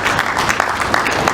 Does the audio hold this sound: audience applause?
yes